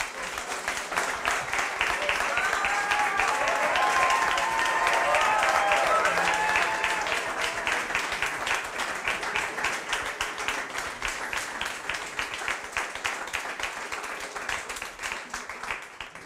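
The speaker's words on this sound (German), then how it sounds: "Ich glaube, nur einen ganz großen Applaus," Sustained audience applause after a museum lecture, a thick crowd of hands clapping loudly at first, then settling into a rhythmic, evenly pulsed clapping. Voices murmur beneath it early on.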